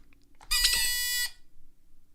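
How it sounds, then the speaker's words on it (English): One loud, harsh electronic buzz sounds for under a second and then cuts off abruptly, with quiet room noise around it. "I heard the buzzer first"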